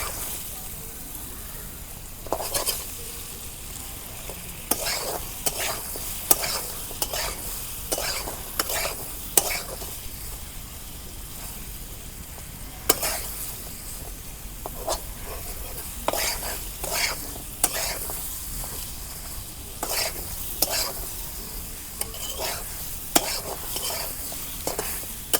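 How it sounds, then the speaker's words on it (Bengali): Pieces of pointed gourd fry in hot oil with a steady sizzle, broken by repeated scraping clatters of a spatula stirring against the pan, close and clear. "তেল গরম হয়েছে, এখন আমি পটলগুলো দিয়ে দিই। নাড়াচাড়া করে দিই।"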